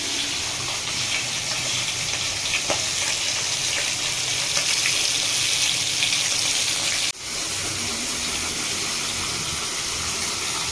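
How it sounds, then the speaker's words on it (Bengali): Fish frying in oil in a new wok in a home kitchen, a steady loud sizzle that holds evenly throughout, with one brief dip near the end, no talking. "আর এদিকে নতুন ওভেন নতুন কড়াইতে রান্না শুরু হচ্ছে আজকে, আর হচ্ছে মাছ ভাজা।"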